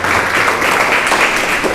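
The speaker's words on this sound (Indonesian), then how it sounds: "Tepuk tangan untuk kita semuanya" Loud, close applause from a group at a school public speaking training session, a brief unbroken burst of many hands clapping together.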